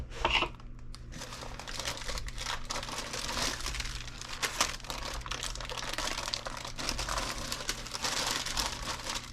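Wax paper crinkles and rustles close up as Pennsylvania Dutch pie dough is rolled between two sheets, a continuous soft crackling with occasional sharper crinkles and no talking.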